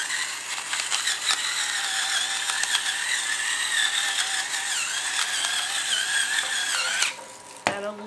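Close, steady ratcheting crunch of a hand pepper grinder cracking black peppercorns over a home-cooked leftover ham dish, running for several seconds before stopping.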